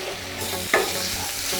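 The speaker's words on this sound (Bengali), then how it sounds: "পেঁয়াজ বাটাটা দিয়ে খুব ভালো করে আমরা এটা তেলের সঙ্গে কষিয়ে নিই।" Onion paste sautéing in oil for Vetki fish muitha, a steady soft sizzle with one brief louder scrape of stirring midway.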